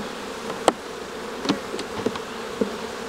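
Honeybees flitting around an active hive during an upward expansion, with a faint steady buzz beneath a few louder passes as individual bees fly close by, no talk.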